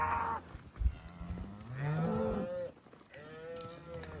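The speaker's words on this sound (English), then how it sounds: "we're just gonna bump these cows and get them started that direction" Cows and calves moo repeatedly while being slowly herded on a desert ranch, several calls from nearby animals with overlapping lowing between quieter gaps.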